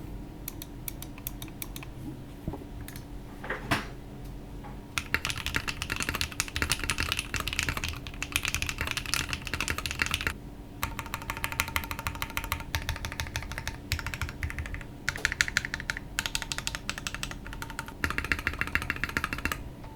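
A Vast60 custom mechanical keyboard with stock foam is typed on up close, giving dense, steady clacking in fast runs, with brief pauses between bursts and no talking.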